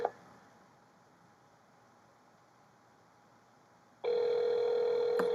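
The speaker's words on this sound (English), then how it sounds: "Ooh, it's ringing." Near silence for several seconds, then a loud, steady electronic telephone tone switches on abruptly and holds until the end.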